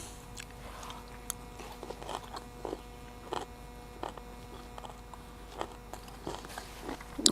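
Crunchy cooked vegetables, including multicoloured carrots, being chewed at a camp meal, giving a series of soft, irregular crunches and bites close up over a low steady hum.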